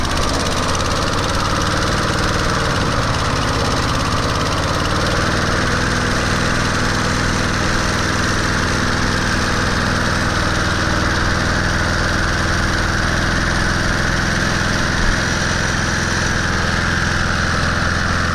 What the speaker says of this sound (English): It runs with that autochoke carburetor, but doesn't quite run as well.